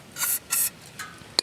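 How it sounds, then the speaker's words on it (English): Two short hisses of carburetor cleaner sprayed into a portable generator's carburetor, up close, followed by faint rubbing and a small click. "This is carburetor cleaner. You can use either carburetor cleaner or starting fluid. So I'll just spray a little in there,"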